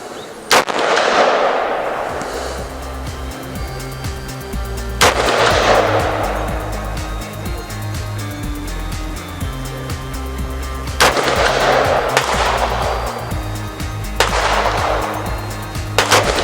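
Gunshots ring out at a shooting range as a five-round group is fired at a target downrange, four or five loud sharp cracks spaced several seconds apart, each trailing into a long echoing decay over a low rumbling background.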